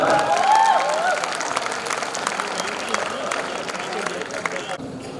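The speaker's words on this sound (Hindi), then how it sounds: "उनके लिए एक बार जोरदार तालियां" Loud applause for a performing team at a college short-play event, dense clapping mixed with crowd babble and cheering, with some background voices, ending abruptly.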